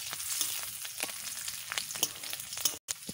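Onions and green chillies frying in oil in a pan, a steady crackling sizzle with scattered pops and stirring clinks throughout, fairly close.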